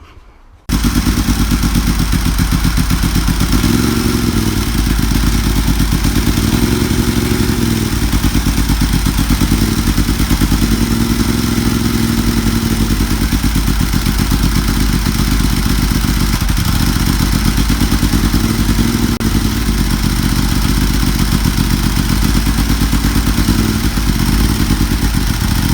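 A Ducati 748 race motorcycle engine runs steadily on a dyno, a loud, continuous mechanical drone that holds close and constant with slight shifts in pitch, and no voices.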